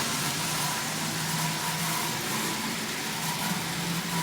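The electric motor of a prewar Marx toy locomotive runs with an unbroken, fairly loud whirring hum that holds level throughout, with no voices.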